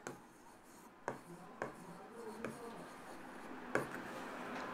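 Teacher writing on a board during a Class 10 math lesson, a handful of sharp taps and scratchy strokes spaced irregularly, faint and close in a quiet room with a soft voice in the background.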